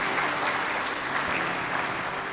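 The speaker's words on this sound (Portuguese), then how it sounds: "Você pode dar um aplauso a Jesus por essa palavra?" A church congregation applauding in a dense, steady burst of clapping that fills the room, with no talking.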